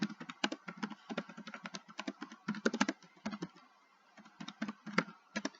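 Computer keyboard clattering under quick bursts of typing, irregular clicks and taps close to the microphone with a short pause midway.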